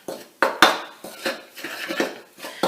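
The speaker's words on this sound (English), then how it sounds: "you want to mix and stir as quickly as you can." A fizzing mixture being stirred quickly in a bowl, with a utensil clattering and scraping against the sides in rapid, uneven strokes, close and clear, with no voices.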